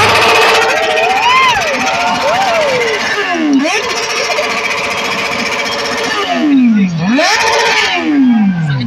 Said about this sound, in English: magpapaandar ng motor nila for the loudest bike